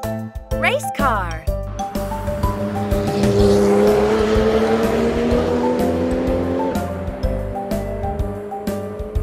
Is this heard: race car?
yes